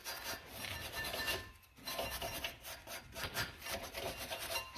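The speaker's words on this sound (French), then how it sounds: "Alors, on va nettoyer les emplacements des étriers." Brake caliper mounts on a Renault Twingo being scrubbed clean, a steady rhythmic rasping scrape close up with a brief pause midway.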